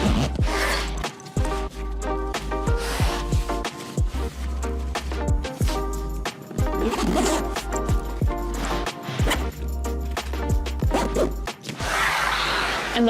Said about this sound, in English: All right, let's zip it all up.